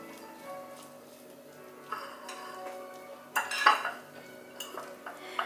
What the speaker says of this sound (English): we're going to squirt the mayonnaise in here. And we're gonna mix this up.